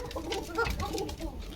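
A group of caged pigeons kept for sale calls with overlapping low coos and soft clucking notes, close and continuous, with no talk over them.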